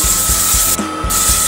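Sandpaper of 180 grit held against a small wood hollow form spinning at 700 rpm on a woodturning lathe gives a steady loud hiss over a rhythmic low thumping from the rotating piece, easing briefly partway through, with no talk.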